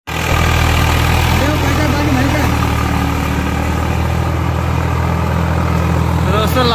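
A Swaraj 440 tractor ploughs a burnt sugarcane field, its engine running loud and steady with a continuous low rumble throughout.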